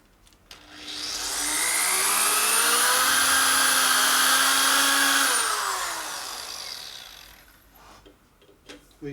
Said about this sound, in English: Seems to be drilling halfway decent